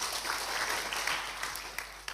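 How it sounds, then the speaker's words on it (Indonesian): A church congregation applauds, a dense, steady wash of many hands clapping that tapers slightly toward the end, with a few louder individual claps. "Berikan tepuk tangan bagi Tuhan kita."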